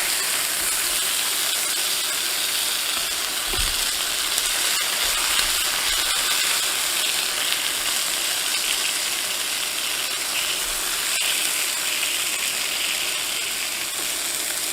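Pan-seared steak sizzles steadily as its edge sears in a hot pan, a constant bright hiss with no break and no voices.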